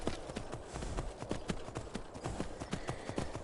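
Steady clip-clop of horse hooves in Skyrim VR, a quick, even rhythm, continuous over a background wash of noise.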